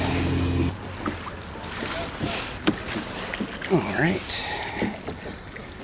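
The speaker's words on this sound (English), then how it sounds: "Paddling through the Tillicum Ridge. Tillicum Reversing Falls." Oars dip and pull as a rowboat moves through the calm Tillicum Reversing Falls on the Gorge Inlet waterway. The near splashes and strokes sound irregular over a steady outdoor background, and a voice speaks briefly.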